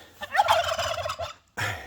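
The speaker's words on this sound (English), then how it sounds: "Hey, turkeys are talking." Turkeys gobble in quick rattling bursts, one long call followed by a short one, fairly close.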